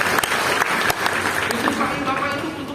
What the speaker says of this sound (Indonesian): Yang mau kita kasih tepuk tangan yang paling meriah.